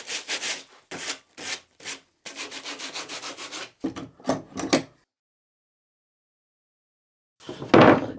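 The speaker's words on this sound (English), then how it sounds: "Sandpaper treatment." Sandpaper is rubbed by hand over a freshly cut cabinet toe kick recess in bursts of close, scratchy strokes, some quick and short, one longer run, then a pause before a final scrub.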